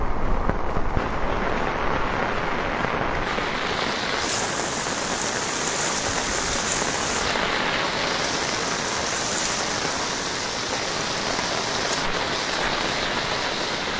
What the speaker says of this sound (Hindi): तो आप समझ सकते हैं कि कितनी ज्यादा बारिश हो रही है।